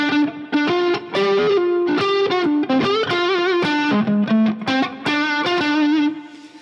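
Distorted electric guitar with chorus-like effects plays a continuous melodic phrase that moves through a chromatic passing tone, loud and up close, with sustained notes and quick note changes and no talking.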